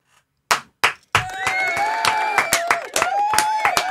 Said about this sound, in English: round of applause. Clap it up.